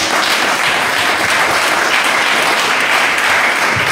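A church congregation applauds during a Haitian pastor's service, a loud, dense, unbroken wash of clapping that holds steady throughout with no speech over it.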